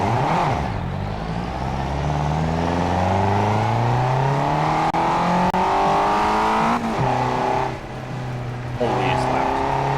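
Loud racing car engine in the Forza Horizon video game, revving up through gears with rising and falling pitch sweeps and shifts, close and dominant, with a voice talking over it.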